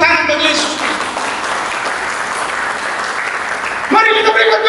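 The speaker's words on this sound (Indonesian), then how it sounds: "Berikan tepuk tangan bagi Yesus" A church congregation claps for Jesus during a worship sermon, a broad wash of steady clapping that fills the space, with a preacher's amplified voice over it at the start and again at the end.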